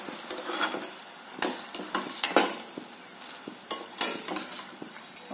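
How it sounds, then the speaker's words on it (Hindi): Namak pare dough snacks deep frying over a medium to low flame, with a soft sizzle broken by irregular metal clinks and scrapes of a slotted spoon against the pan, close by and without voices. "नमक पारे को मीडियम टू लो फ्लेम पर फ्राई कर लिया है"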